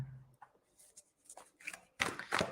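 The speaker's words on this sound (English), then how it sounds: "Giving these a good shuffle." Close, quiet tarot card shuffling: scattered soft rustles and taps building to a couple of louder riffling bursts near the end.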